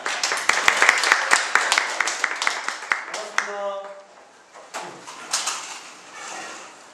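An audience claps to welcome a company representative at a talk on Wanju County's rural revitalization policy. Dense, moderately close clapping fills the first three seconds, then fades as a voice and scattered sounds follow.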